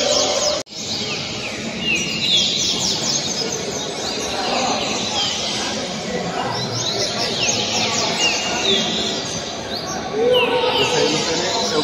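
A coleiro, the double-collared seedeater, sings in a caged songbird tournament in Rio de Janeiro, pouring out continuous rapid chirping phrases loud and close, with people's voices and other birds faint in the background.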